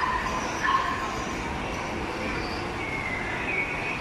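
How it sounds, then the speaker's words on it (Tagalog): Dogs yip and bark inside a shopping mall pet area, with small, fairly faint yelps and whimpers over a busy indoor background murmur. "cute ng mga aso."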